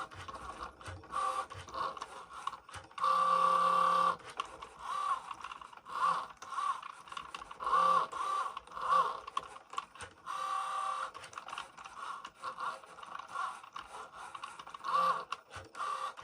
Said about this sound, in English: So the Cricut Joy can cut the vinyl.